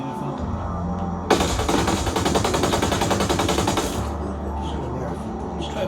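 A heavy-recoil automatic weapon in Ghost Recon Breakpoint fires one continuous rapid burst of about three seconds, loud and close, then stops, leaving quieter game ambience.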